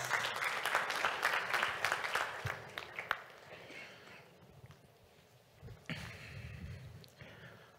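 Applause from the audience at a panel event rises into a loud burst of clapping, then dies down into scattered murmurs before a second, shorter round of clapping.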